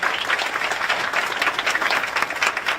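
Students and guests at a high school ribbon cutting ceremony applaud in a dense, steady wash of clapping that holds throughout.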